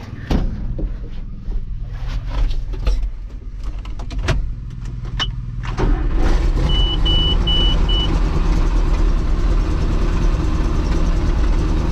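An old smoky truck engine idling: a deep, steady low rumble that starts with some clunks and rattles, then settles into a louder continuous idle, with a few faint electronic beeps partway through.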